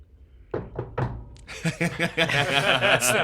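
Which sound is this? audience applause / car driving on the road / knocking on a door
knocking on a door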